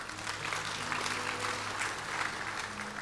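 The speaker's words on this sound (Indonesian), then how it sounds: "Tadi yang tepuk tangan pertama siapa itu?" Audience in a church service breaks into applause, a thick, continuous patter of many people clapping at moderate volume, with a faint hum underneath.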